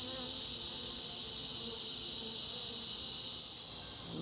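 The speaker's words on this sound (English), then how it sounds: "look at how all those bees are going after her" A dense cloud of honeybees buzzes steadily around a newly introduced queen in a bee yard, a continuous close hum with no voices.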